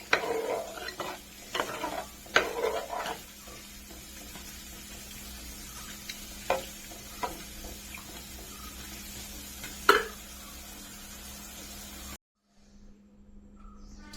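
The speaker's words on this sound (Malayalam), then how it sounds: "ഇനി ഇത് നല്ലോണം തിളക്കട്ടെ" Prawn curry simmering in a pan makes a soft, continuous bubbling hiss, with sharp clatters and utensil clinks near the start and a few isolated knocks later, before the sound cuts to near silence at the end.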